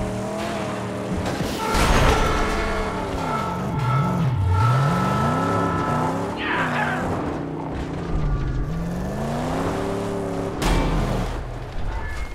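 A car engine in the Mad Max video game revs continuously and loudly, its pitch climbing and dipping repeatedly as the vehicle accelerates and slows, with a brief rattling scrape partway through.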